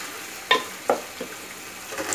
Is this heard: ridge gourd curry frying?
yes